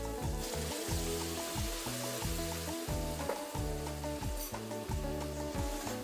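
Drumstick pods in a hot pan sizzling after a small splash of water, a dense continuous hiss with faint clatter, close and steady with no talk.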